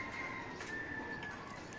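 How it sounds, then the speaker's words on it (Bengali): Six pigeons kept in a cage at a rural home coo softly in low, rolling calls under a steady background hum. "এই যে এখানে এই হলো আমার ৬টা কবুতর।"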